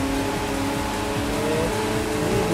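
Nissan Fairlady Z, the Devil Z, engine droning steadily and loudly in The Crew 2 racing game, a continuous hum with shifting pitch over rain and road noise throughout.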